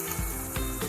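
Ground mint, green chili, garlic and ginger paste hit a pan of frying ingredients, giving a loud, dense close sizzle with a few brief bumps of stirring, no voices.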